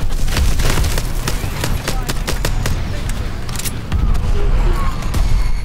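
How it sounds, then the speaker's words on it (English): Rapid automatic gunfire in the shooter Call of Duty: Advanced Warfare, a dense, loud, sustained rattle of shots with booming impacts underneath and a voice talking over it. "This is a pistol? It looks like a machine gun,"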